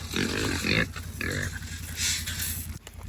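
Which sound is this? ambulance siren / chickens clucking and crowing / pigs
pigs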